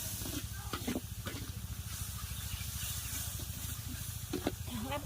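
Sambal goreng sizzles in a hot pan, giving a steady, close hiss and crackle of frying oil throughout, with faint low household noise and brief voices in the background.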